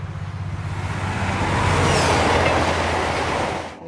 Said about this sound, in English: now the Maglev is gone, powering away towards the future of transport